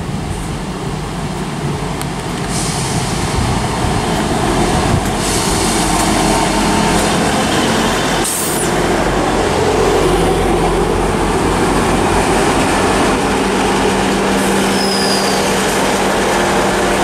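A Great Western Railway service train runs on the line toward Taunton in Somerset, its steady loud rumble and rolling wheel noise filling the whole stretch with no voices.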